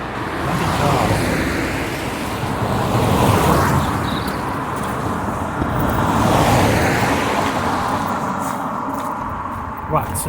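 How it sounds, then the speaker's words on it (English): A car passes along a road in a residential area during a local hike, a broad steady rumble swelling and fading over several seconds, close by and fairly loud, with general traffic and wind noise running throughout. "Oh, bloody car."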